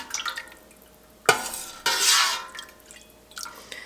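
Warm cheese curds for dill Havarti are stirred in a pot of whey on an unlit stove, making a couple of loud wet swishes and splashes with faint dripping and soft utensil clinks between them, close and without speech.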